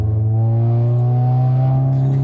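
A tuned, fully built 600 bhp Audi S3 8V gives a loud, raspy engine and exhaust drone that holds steady and close throughout, with no talking.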